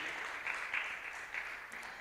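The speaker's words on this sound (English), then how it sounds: "let's give a round of applause" Audience applause at a Voices for Change event, a fairly soft, even patter of clapping from a modest crowd lasting the whole brief moment.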